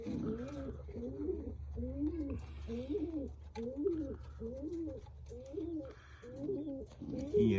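Breeding pigeons cooing in a small loft, a repeated rhythmic coo about every half second, moderately close over a low steady background hum.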